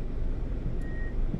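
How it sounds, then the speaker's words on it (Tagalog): A car backs into a roadside parking spot with a low engine rumble and one faint, brief beep partway through. "Parking muna natin yung sasakyan natin"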